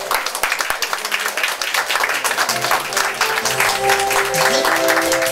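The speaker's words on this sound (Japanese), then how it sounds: "皆さん拍手" Audience clapping at a small live-music event in a Japanese venue, a dense, sustained round of applause with some voices underneath and a held musical tone rising in the second half.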